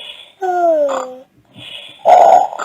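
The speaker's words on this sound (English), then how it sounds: "Peppa, George, Grandpa Pig and Granny Pig are all snoring on the sofa." Cartoon pigs snoring together on a sofa in a children's audiobook: a few drawn-out, gurgling snore sounds with wavering tones, separated by short quiet gaps, close and fairly loud.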